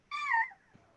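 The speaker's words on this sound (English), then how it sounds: "Those are the shrieking eels." A high-pitched shrieking effect standing in for the shrieking eels, heard during a dramatized reading of The Princess Bride; one brief, wavering cry rising and falling, fairly close and alone, followed by quiet with a faint soft thud.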